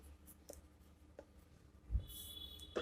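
Pen or pencil scratches quietly on paper in short, faint strokes, recorded close with a soft background hum and no talking.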